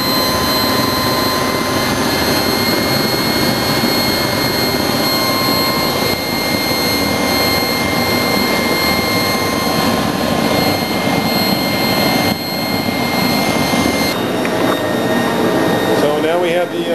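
Propane burner flame under a beer keg, turned up high: a loud, continuous roaring hiss, like a torch, that stays constant with a steady hum running through it.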